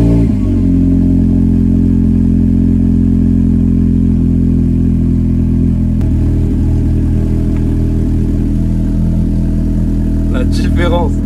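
A Renault Clio RS fitted with a new Cobra exhaust runs loud and close, a deep steady engine drone whose pitch shifts partway through as the revs change.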